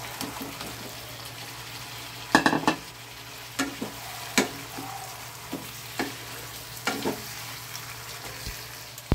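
Fried pointed gourds being stirred into a sautéed spice mixture in a pan, a low background sizzle broken by several sharp spatula scrapes and clanks against the pan.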